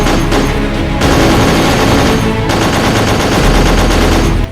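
Sustained bursts of automatic gunfire during a police raid shootout, loud and dense, with a brief lull around the middle before the firing resumes to the end; no voices.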